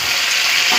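Fish heads sizzle and hiss in a hot pan as they are stirred, a loud, close, steady frying sound over a brief moment.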